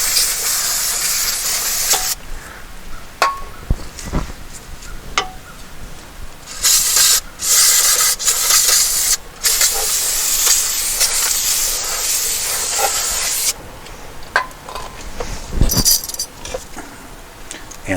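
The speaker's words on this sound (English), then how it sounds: "Hose a little dust off." Spray hisses over rear brake parts of a 2007 GMC Acadia to blow dust off, coming in several loud bursts of varying length separated by brief clicks and handling noises.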